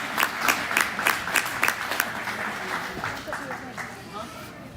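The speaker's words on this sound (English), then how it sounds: "Let's give this lady a nice round of applause." A crowd applauds at a Coyotes versus Wilson event, a steady patter of many hands clapping that starts strong and tapers off, moderately loud with some voices mixed in.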